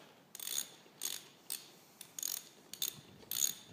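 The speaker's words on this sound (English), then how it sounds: "it's just a matter of tightening these all up to 30 newton meters" A ratchet tightens bolts to 30 newton meters during a Volvo Penta MD2010 engine rebuild, giving six or seven short bursts of quiet, close clicking separated by brief pauses.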